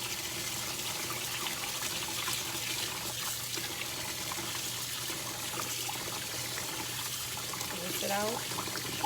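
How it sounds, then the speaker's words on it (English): Water running and trickling as a container is rinsed out while making rice water for garden fertilizer, a steady continuous flow close by with a brief gurgle near the end. "Rinse it out."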